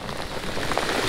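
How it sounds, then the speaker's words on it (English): Heavy rain pours steadily onto a lake at Lake Eucha Spavinaw in Oklahoma during a kayak fishing trip, a dense close hiss of drops hitting water with no talk. "It's raining hard now."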